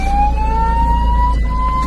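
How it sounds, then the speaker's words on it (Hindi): An ambulance siren blaring on a road while the vehicle is stuck near an angry elephant: a loud, close, continuous wail whose pitch slowly rises, alone with no speech. "एम्बुलेंस ड्राइवर सायरन और हॉर्न बजाने लगा"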